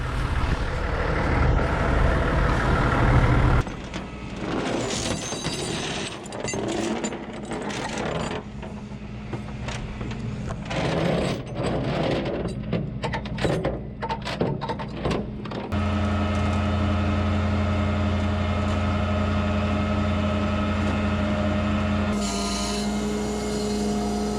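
Tow truck loading a parked vehicle, with shifting mechanical whirring, hydraulic whine and clanking at first, then a steady droning winch or engine hum that runs unbroken, fairly close and with no talk.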